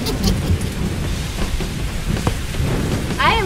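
Continuous heavy rain on a cartoon campsite, a dense, steady hiss with low rumbling throughout, ending with a brief rising whistle effect.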